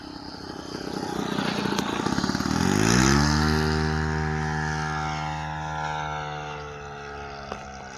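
An RC Great Planes F4U Corsair model plane roars past with a powerful engine, swelling to a loud close pass and then dropping into a steady pitch-falling drone as it flies away.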